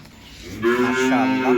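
A Jersey Friesian heifer gives one long, loud, steady moo close up. It starts after a quiet moment and holds to the end.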